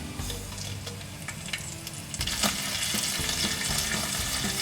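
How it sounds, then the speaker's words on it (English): Whole cumin seeds crackle and splutter in hot oil with asafoetida and green chillies going in, a busy, continuous sizzle with scattered sharp pops and a brief stirring clatter midway, close and fairly loud, no talking. "As jeera starts spluttering, let's put hing, some green chillies"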